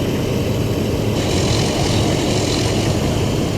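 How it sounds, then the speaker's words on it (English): A DE 24000 diesel locomotive in a Taurus Mountains train simulator roars with a loud, steady, broadband engine drone that holds constant throughout, with no talk over it. "that is a seriously loud diesel engine."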